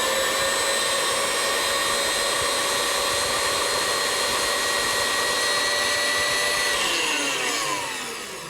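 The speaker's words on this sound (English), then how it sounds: "Then just turn the machine on until it's all well blended," A food processor blending cocoa into a paste runs with a steady, loud motor whine that holds evenly, then begins to wind down near the end.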